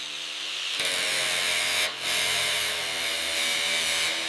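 A power tool cuts through a rusted frame rail on a 1941 Willys B WWII jeep, a loud, sustained high-pitched grinding whine close by, with a brief dip partway through before the cutting resumes.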